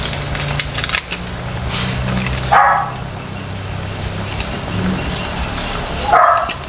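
Dogs bark intermittently in the background over a steady engine-like hum, with a couple of sharper bursts standing out, while pork sinigang is cooked.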